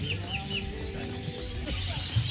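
A bird calls several times at an animal park, its short chirps and clucks standing out in the middle distance over steady outdoor background noise.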